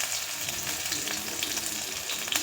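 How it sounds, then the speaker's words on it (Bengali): Bombay duck fish chops fry in hot oil, a steady moderate sizzle with fine crackling and occasional sharper spits, no talking. "এদিকে লোটে মাছের চপ ভাজা হচ্ছে"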